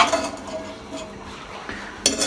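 A spoon stirs an ice cream mixture in a metal pot over the fire, making scattered clinks and scrapes against the pot, fairly close and moderately loud, with a sharper clatter near the end.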